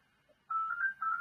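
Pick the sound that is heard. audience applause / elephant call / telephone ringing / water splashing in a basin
telephone ringing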